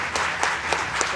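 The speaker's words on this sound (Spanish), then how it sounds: "vamos a darle un fuerte aplauso" Audience applause following a Senate president's speech on a televised Senate program: a short, steady stretch of crowd clapping with a few sharper claps standing out, moderately loud.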